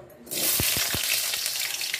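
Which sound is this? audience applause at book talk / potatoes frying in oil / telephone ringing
potatoes frying in oil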